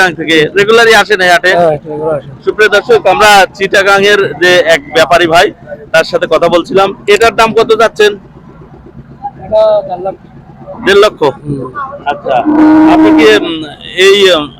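Cattle moo loudly and repeatedly at the Talgachi cattle market in northern Bengal, a crowded outdoor setting, with people talking throughout over a steady background hum.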